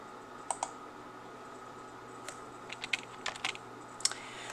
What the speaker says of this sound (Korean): 컨트롤 키 누르고 엔터를 딱 쳐볼게요